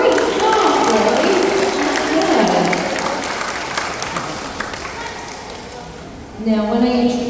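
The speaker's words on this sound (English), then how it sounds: "What do you give them both a little round of applause?" Audience applause at a sea lion show in a safari park, a steady wash of clapping that fades slowly before a fresh burst near the end, with a presenter's voice talking over it.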